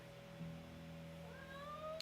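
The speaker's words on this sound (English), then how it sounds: "What are you meowing at?" A quiet cat gives a short, thin meow that slides upward, heard faintly over a constant low electrical hum.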